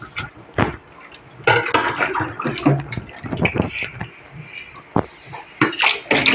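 A child washing at a running tap or basin at home, water splashing and running in uneven bursts close by, with the child laughing and adults talking over it.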